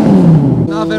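A 1980 superbike accelerating hard, its loud engine note climbing in pitch, then briefly dropping as it shifts gear and pulls again, close and dominant.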